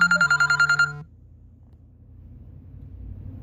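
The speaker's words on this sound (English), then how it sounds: "I got a phone call, I hung up" A phone rings with an incoming call: a burst of rapid, evenly pulsed electronic tones lasts about a second and then cuts off, leaving a quiet low rumble with no voices.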